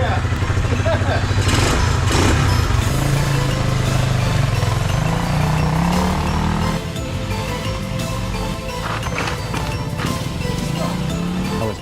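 1979 Honda XL250s 250cc dirt bike with bear damage, its single-cylinder engine running with a steady close putter throughout, while people talk over it.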